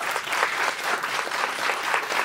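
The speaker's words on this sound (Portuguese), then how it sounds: "aplausos para os amigos que estão aqui hoje, os casais." A stand-up comedy club audience applauds, a dense and steady wash of many hands clapping at moderate loudness. No voices are heard over it.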